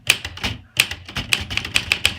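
Typewriter keys striking in quick irregular bursts, close and sharp, each clack followed by a brief mechanical rattle.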